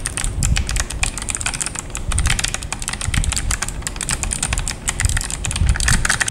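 Rapid, steady typing on an E-Dra EK368W wireless 60% mechanical keyboard with Kailh Box White switches gives dense, fairly light clicky keystrokes at close range with no talking.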